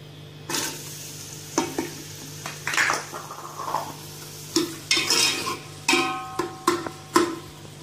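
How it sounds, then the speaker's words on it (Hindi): Onions hiss and sizzle in hot oil in a pressure cooker while being stirred, with scraping and clinks of a utensil in bursts, close up. "ऑयल गर्म हो गया, इसमें डाल रही हूँ प्याज।"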